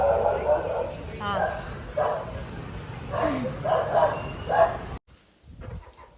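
A black dog, a rescued pup, barks in short, repeated yaps at a moderate distance while people talk over it, and then it goes quiet.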